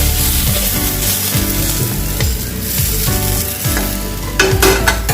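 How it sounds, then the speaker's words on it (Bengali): Potatoes fry in a pan with a steady loud sizzle and crackle, stirred now and then, close up with no talking. "আমার আলু ভাজাটা প্রায় অনেকটাই হয়ে এসছে"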